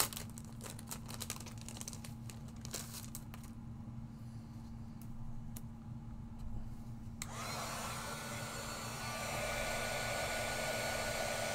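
A heat gun heating stamping foam blows a steady hum under crinkling and handling noises, then the airflow roar rises and broadens about midway and holds at a louder level to the end.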